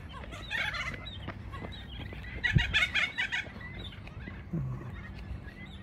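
Birds call in scattered chirping bursts as flocks return to their roosting trees along a riverside foreshore, moderately distant over soft outdoor ambience.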